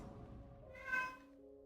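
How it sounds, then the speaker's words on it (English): An angry cat lets out a single drawn-out, whiny meow partway through, close and fairly quiet, over a low steady background hum. "Okay, now she's meowing angrily."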